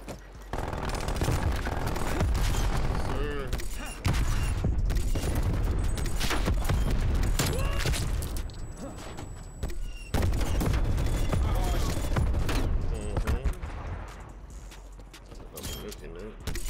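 Rapid automatic weapon fire from the War Machine grenade launcher in a Black Ops first-person shooter, loud and dense with repeated bursts and booms, with game effects and a voice talking over it.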